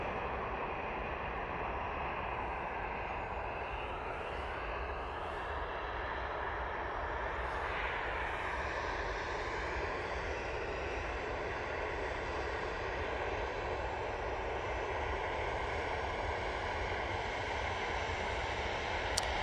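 A jet airliner taxis on the ground at Manchester Airport, a steady, distant engine roar and whine that holds evenly throughout with no voices.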